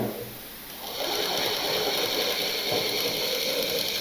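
A sewing machine stitches a sewing machine cover, running in a steady, fast mechanical whir that picks up after a brief slower start and continues close and loud to the end.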